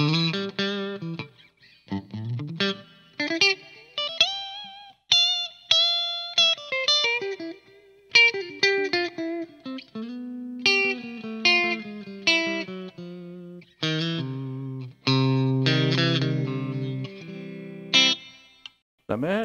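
A Sire Larry Carlton T7 electric guitar played on the middle pickup position gives clean, slightly bouncy single-note phrases and chords with effects, short lines separated by brief pauses, close and alone.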